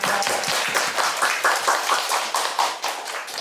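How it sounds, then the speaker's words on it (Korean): Audience clapping at a film talk event, a small crowd applauding in a quick, uneven rhythm of distinct hand claps, fairly close and steady throughout. "박수 한번 부탁드립니다."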